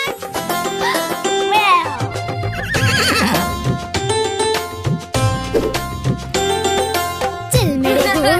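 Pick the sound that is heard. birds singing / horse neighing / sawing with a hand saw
horse neighing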